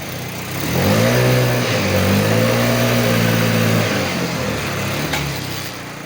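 A Yamaha Jog SA36 scooter engine idles and revs up steadily in a cold garage, its close buzzing note rising and holding before easing back down, with no talking over it.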